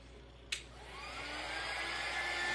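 A hair dryer clicks on and blows a steady, rising whoosh while drying a painted craft tray, loud and close for the rest of the moment.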